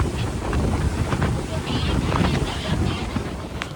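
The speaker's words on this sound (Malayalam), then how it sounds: "ഒരു ദാക്ഷിണ്യം ഇല്ലാത്ത സ്പീഡിലാണ് ബോട്ട് പൊയ്ക്കൊണ്ടിരിക്കുന്നത്." A speedboat races at high speed across the sea off a Thai coral island, producing a steady, loud rush of wind buffeting and engine-driven water noise throughout.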